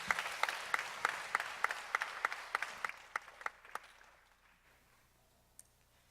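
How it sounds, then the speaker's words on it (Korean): A church congregation at a Friday night service claps in a steady, even rhythm, the beats fading away over several seconds until only a faint lone clap remains. "박수를 한번 격려해 주시죠"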